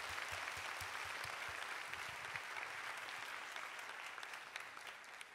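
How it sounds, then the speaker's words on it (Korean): A congregation at a worship service applauds in a continuous wash of clapping, steady and fairly distant, fading slightly toward the end. "큰 박수로 모두 순서 마무리하도록 하겠습니다."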